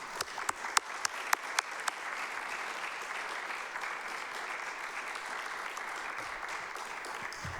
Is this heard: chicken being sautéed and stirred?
no